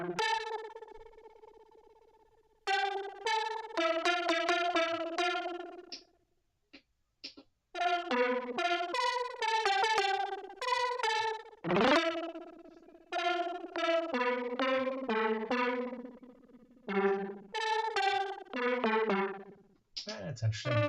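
Arturia MicroFreak synthesizer in unison mode, a thick, detuned lead playing a series of melodic phrases with effects, loud and alone with brief gaps between runs.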